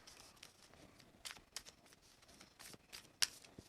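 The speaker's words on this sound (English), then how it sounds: "So, our 1 card gets shuffled in here." Playing cards from an Arkham Horror card game being shuffled into a deck, with soft riffling flicks and brisk papery taps, quiet and close.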